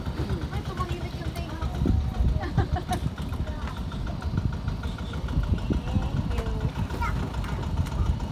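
A motorboat engine idles and chugs at moderate distance in Bolinao, a steady low rumble with people chatting over it.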